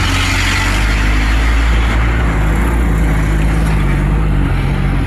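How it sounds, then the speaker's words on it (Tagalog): Heavy road traffic on Lopez Boulevard in the Philippines rumbles loud and close, a continuous low engine drone with a steady broadband roar and no pauses. "Traffic guys."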